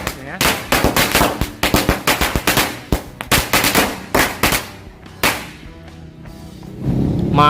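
Two packs of mercon korek smoke mini stick firecrackers go off together in a fast ragged burst of sharp close bangs, spacing out toward the end and giving way to a low hiss and a voice.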